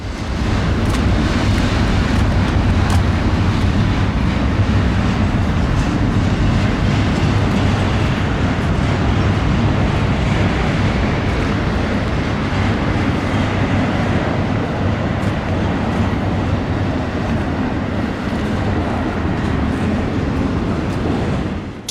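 A Norfolk Southern eastbound intermodal freight train rolls past an overlook on the Pitt Line in the Alleghenies, a loud, steady rumble of rail cars with faint clickety-clack that holds for the full stretch, with no talking.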